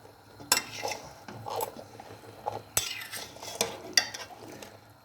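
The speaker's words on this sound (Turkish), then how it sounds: "Bunu şimdi ben böyle yavaş yavaş her 2-3 dakikada bir karıştıracağım." Maraş pepper pickle being stirred in a pot, a few sharp utensil knocks and scrapes against the pot spaced over a few seconds, over a faint low background and with no talking.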